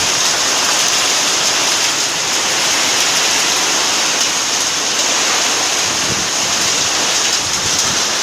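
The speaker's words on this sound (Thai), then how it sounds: "มีลูกเห็บตกนะฮะลูกเห็บตกเยอะมากเลยครับผม" Hail pours down hard during a summer thunderstorm in Mueang Sakon Nakhon, Thailand, a dense and steady loud roar of countless impacts that continues unbroken throughout with no voices.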